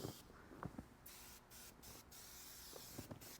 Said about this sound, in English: I'd rather just spray into the tool and use that.